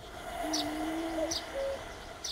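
A cuckoo calls in the video game The Night of the Rabbit, a soft two-note cooing repeated a couple of times over a steady ambient game soundscape, with faint high chirps in between.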